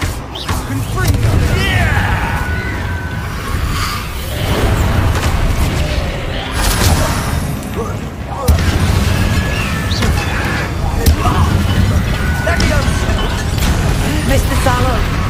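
Confringo fire spell blasts go off repeatedly in Hogwarts Legacy combat, with loud booming bursts mixed into a busy fight. Voices are heard over the blasts.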